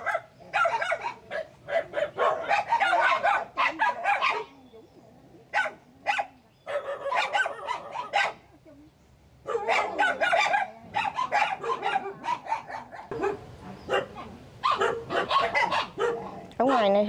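Many dogs bark in loud, rapid bursts while a rooster crows and chickens cluck nearby, the animal noise nearly continuous, with people talking underneath at times.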